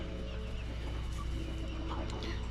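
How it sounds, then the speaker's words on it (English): A gray hen sitting in a nest box clucks softly and intermittently, close by, over a steady low barnyard hum from other chickens around the coop. "there's one gray hen in there."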